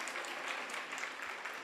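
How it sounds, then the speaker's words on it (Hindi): Dense applause from a seated audience at a Jain devotional gathering, steady and continuous with no voices over it. "अब बजाओ ताली।"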